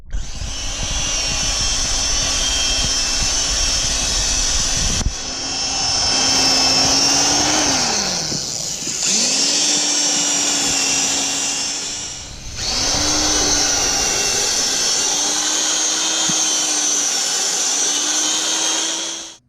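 A half-inch power drill fitted with a paint mixer churns shrimp bait, its motor whining steadily and loudly with brief dips where it slows or pauses around the five-, nine- and twelve-second marks, no talking over it.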